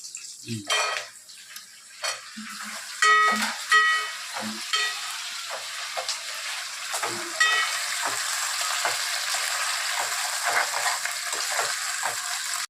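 Potato, carrot and tomato frying with green chillies in a pan for gongura chicken biryani: a steady close sizzle, with a few sharp clinks and clanks of a utensil against the pot early on.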